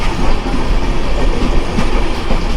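The Ekota Express passenger train runs on the Panchagarh to Dhaka line, with a loud, continuous rolling rumble and rattle of carriages and wheels heard from aboard and no voices.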